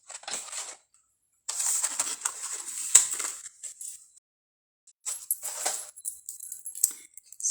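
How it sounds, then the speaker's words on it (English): Die cutting machine cutting out mitten shapes, heard as two bursts of crunching, grinding mechanical noise separated by a quiet gap, with a sharp clack near the middle of the first burst. "now we're going to die cut our mittens out."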